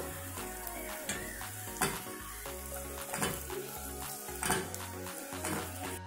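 Amti masala sizzling steadily as it is sautéed in a pan after salt is added, a continuous close frying hiss with no talk but with steady tonal sound running underneath.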